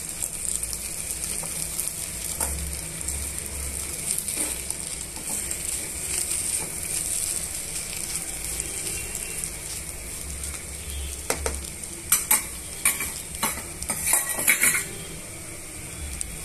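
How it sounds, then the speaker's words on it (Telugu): Utensil scraping and clinking in a pan while mashed onions and potatoes are mixed for a Mysore masala dosa filling, a steady low sizzle underneath with denser clatter toward the end, close and moderately loud. "ఇలా అన్నీ కూడా బాగా స్మాష్ చేసి వేసుకున్న తర్వాత ఈ ఉల్లిపాయలు ఈ బంగాళదుంప రెండు కూడా మిక్స్ చేసుకోవాలండి"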